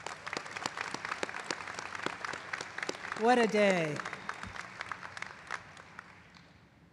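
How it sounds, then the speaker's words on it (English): Audience applause for the graduating class of 2023 at a veterinary medicine college commencement, a dense crowd of hand claps continuing steadily and fading toward the end, while a voice speaks briefly over it. "Let's give this class another round of applause."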